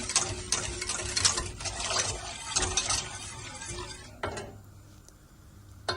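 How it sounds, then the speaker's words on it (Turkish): Flour is whisked into a litre of milk for mock profiteroles, giving close, brisk scraping and ticking strokes against the pot that run steadily for about four seconds before stopping. "1 litre süte yarım su bardağı un ilave ettim karıştırıyorum"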